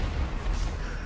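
A dense, low rumbling roar of explosions in GTA 5 Adversary mode, continuous and heavy through a short burst with no clear separate blasts.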